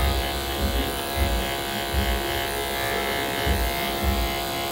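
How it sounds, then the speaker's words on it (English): Detachable-blade hair clippers buzz steadily and fairly quietly while cutting a military skin fade, with soft rhythmic low bumps as the blades pass over the head. "I'm going to come in with the corners"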